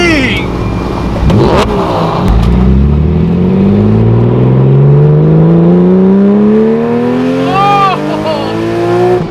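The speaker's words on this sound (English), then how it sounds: "This car sounds absolutely crazy. That exhaust and this engine combined together with that supercharger" A 500 hp supercharged, modified Porsche 911 996 accelerates hard, engine and exhaust climbing through rising gear pulls with a loud close whine and roar, heard from inside the car under a brief spoken exclamation.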